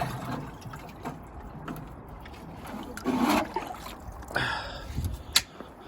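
Water poured from a watering can onto a potted plant, a soft trickle and splash that swells in short bursts amid quiet background noise.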